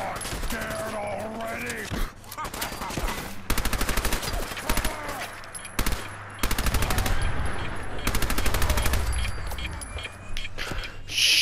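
Automatic gunfire in the video game Fallout 4, bursts of rapid shots separated by brief pauses, loud and up close, with a player's voice talking over parts of the shooting.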